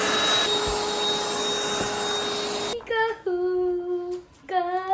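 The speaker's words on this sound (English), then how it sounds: "Now we gotta vacuum that all up." A small household vacuum cleaner sucks up a spill with a steady, loud whirring drone that cuts off abruptly, leaving a few short whining tones afterward.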